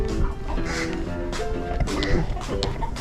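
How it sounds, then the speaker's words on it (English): Backyard chickens fuss and cluck in a busy, overlapping chorus near a house garden, with a person talking over them. "Chickens are fussing."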